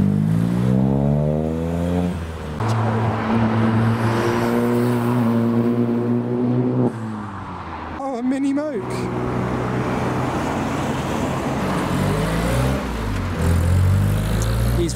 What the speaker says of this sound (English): Got another Fiesta lining up at the junction,